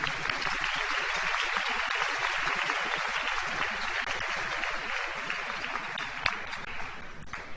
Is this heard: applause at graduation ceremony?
yes